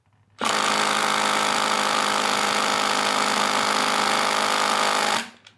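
Milwaukee 2960 3/8 inch impact wrench with a 22 mm socket hammering at a stuck bolt: a single sustained burst of loud rapid rattling impacts lasting about five seconds, starting and stopping abruptly.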